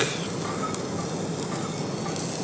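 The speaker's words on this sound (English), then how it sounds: "Now we're gonna fry the garlic for a couple minutes." Minced garlic fries in olive oil in a pan, giving a steady, close sizzle that hisses evenly without pause.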